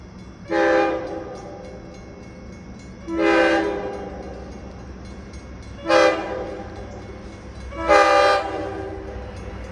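A train at a road crossing sounds four long, loud horn blasts at regular intervals over a low steady rumble of the passing cars.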